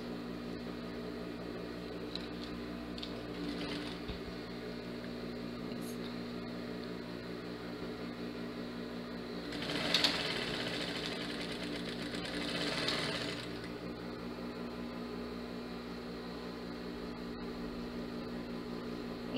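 A sewing machine stitches blouse fabric in a steady, continuous mechanical whir that holds for most of the stretch, with a louder, busier burst of stitching near the middle and faint background hum throughout.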